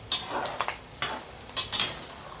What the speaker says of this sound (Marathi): शेंगदाणे तळायचे। छान असे खमंग भाजून घ्यायचे, तेलामध्ये तळून घ्यायचे